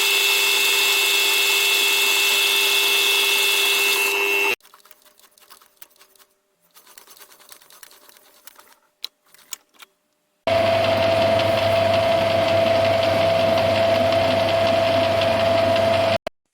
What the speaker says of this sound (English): A hex is milled using a collet block.